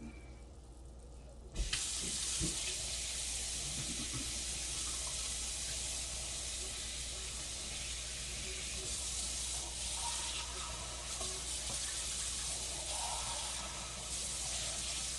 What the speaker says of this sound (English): I have to put, honest to goodness, hot water in here for you